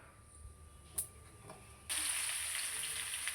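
Tempering seeds go into hot oil in a pan, with a couple of faint clicks first and then a sudden, steady, bright sizzle that continues to the end. The sound is close but fairly quiet, with no speech.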